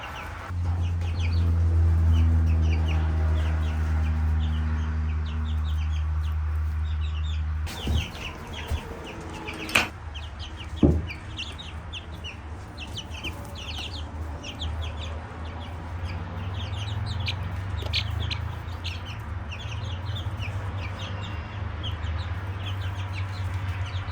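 Baby chickens cluck and cheep softly around a feeder set a little too low, with scattered pecking taps and a few sharper knocks against a steady low hum, mostly without talk.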